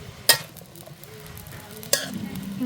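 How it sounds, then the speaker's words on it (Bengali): Leafy greens fry in a pan with a low, quiet sizzle, broken by two sharp clanks of a utensil against the pan. "আমি শাকগুলো ভাজি করে নেব আগে শাকগুলো রান্না করে নেব"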